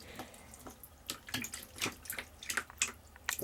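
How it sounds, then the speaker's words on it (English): Shower water from a handheld head set in a cup, overflowing like a small fountain; irregular splashing and trickling close by, with soft bursts of running water and drips, no talking. "I put the shower head in the cup, and whenever the water's on, it kind of overflows like a little fountain thing"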